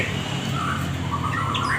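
An oriental magpie-robin, or kacer, calls in short warbling and chirping bursts over a steady, noisy background hum.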